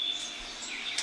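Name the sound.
birds singing in the morning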